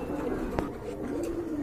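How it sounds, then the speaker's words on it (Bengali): A pair of grizzle pigeons cooing close by: a soft, low, brief coo with a faint click partway through, over quiet background noise. "এই যে দেখেন কত সুন্দর এক জোড়া কবুতর মাশাআল্লাহ, ডিম বাচ্চা করানো একটা পেয়ার"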